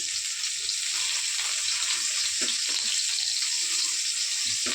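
Chopped onion and garlic fry in hot oil with a steady, dense sizzle that stays loud and even throughout, with faint stirring knocks underneath.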